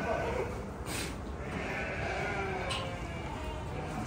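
Goats bleating amid a noisy crowd of small livestock on a Turkish farm, calls overlapping and continuous, with distant voices mixed in.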